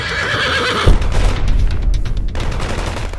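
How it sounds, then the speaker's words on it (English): Dramatic sound effect of a horse whinnying loudly as it falls and crashes to the ground, followed by a heavy impact and rapid gunfire. "she could hear and feel a horse take an unfortunate fall as it came crashing to the ground."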